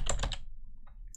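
A command being typed on a computer keyboard, a quick run of three or four close key clicks followed by a couple of fainter taps, with no talking.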